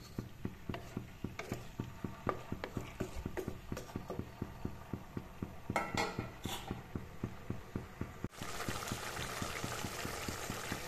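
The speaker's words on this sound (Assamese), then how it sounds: "ইয়া মাছখিনি মোৰ উতলিব ধৰিছে" Fish curry with cauliflower and tomato bubbles in a pot, soft regular pops and blips of boiling liquid repeating close by, ending in a steadier broad simmering hiss.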